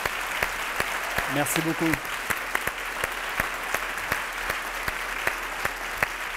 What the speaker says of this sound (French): Messieurs, dames, je vais vous demander de l'applaudir